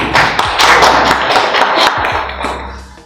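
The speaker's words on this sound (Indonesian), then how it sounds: "Berikan aplaus pada Raya Ramani" An audience in a lecture session claps for a participant, a dense burst of close, sharp handclaps lasting a few seconds before thinning and fading out.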